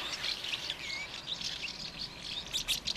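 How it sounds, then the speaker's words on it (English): House martins nesting in the eaves of a building chirp and twitter continuously nearby in a busy, overlapping chorus with no talk. "Now, those are house martins."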